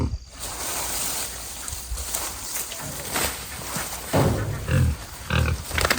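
A pig grunts and snorts close by in short bursts, with a few louder grunts near the end and rustling in the background.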